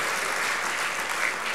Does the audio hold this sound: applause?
yes